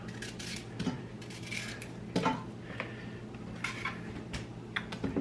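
A knife cuts through apples on a board, giving quiet, sparse taps and clicks with irregular gaps, close up and without talk.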